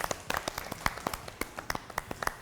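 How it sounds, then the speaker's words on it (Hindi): Studio audience applause on a Pakistani morning TV talk show, a short burst of brisk, uneven hand claps from a small crowd, heard close with no talk over it. "बहुत सारी तालियां इनके लिए जी।"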